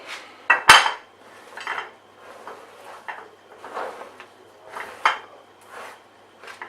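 Broccoli florets dropped into a metal roasting tin, giving a scatter of close clinks and clatters at irregular intervals, with a few sharper knocks near the start.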